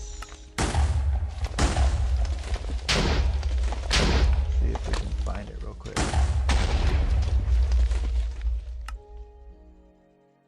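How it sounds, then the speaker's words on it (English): Explosions go off in Minecraft during a boss fight against the Wither. Several loud, booming bursts come one after another, each tailing off before the next. Someone speaks briefly over them, and the blasts give way to quiet at the end. "Okay, still some explosions."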